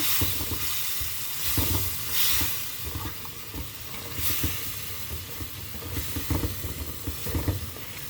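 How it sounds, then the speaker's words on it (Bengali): Spiced base for a salted stinging catfish (shing) curry, seasoned with cumin powder and salt, sautéing in a pan: a steady close sizzle with soft stirring scrapes and no voices. "এটা এখন ভালোভাবে একটু কষাই নিব"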